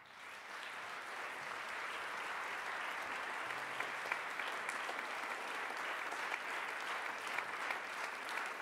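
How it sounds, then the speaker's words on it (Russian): Sustained applause from a concert audience at a classical music competition performance, a steady wash of clapping that holds at an even level throughout. "Огромная просьба не аплодировать между частями."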